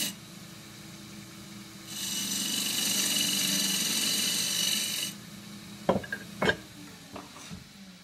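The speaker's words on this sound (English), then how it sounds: "So cutting this out with the 3/8 spindle gouge." A 3/8 spindle gouge cuts cross-grain forest sheoak on a lathe, giving a steady, loud rasping hiss for about three seconds before easing off into a few sharp knocks and taps.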